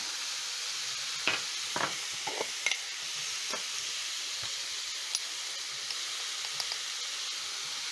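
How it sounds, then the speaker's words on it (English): Minced meat fries in a pan for homemade pizza, a soft steady sizzle broken by sharp scraping taps as a spatula breaks the meat apart, close and without talk. "Break down my minced meat using my spatula, just like that, so that the meat can evenly cook."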